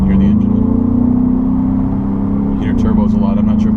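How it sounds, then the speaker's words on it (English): Twin-turbo V6 of a 2017 Ford Raptor pickup under part throttle, heard from inside the cab as a loud, steady drone that climbs slightly in pitch, then dips and holds, with no talking. "So I'm gonna get on a little so you can hear the engine."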